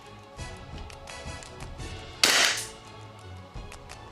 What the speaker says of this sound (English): I now have the SilencerCo Airsoft Osprey RangeUp kit inside this suppressor